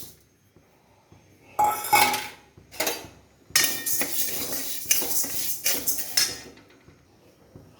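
Mung and masoor lentils are stirred in a wooden-handled pan, and a spoon scrapes and clinks against the metal in irregular bursts. The clatter is close, loudest in a dense run near the end.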